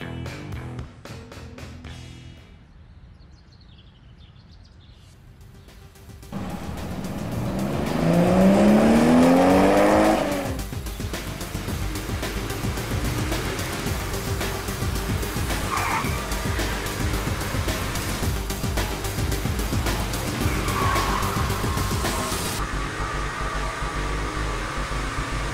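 A cartoon police car chase, with a car engine accelerating loudly and tires squealing in a sustained skid, then continuous driving roar at close range.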